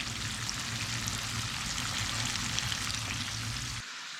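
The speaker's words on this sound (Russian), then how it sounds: "у нас первая партия наших ротанчиков, кабанчиков начала жариться" Rotan fish fry in a pan with hot oil, giving a dense, steady crackling sizzle close by that cuts off abruptly just before the end.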